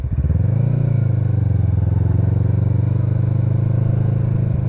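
A motorcycle engine runs steadily and loudly close by, a constant low drone with a slight rise in pitch near the start, heard alone without talk.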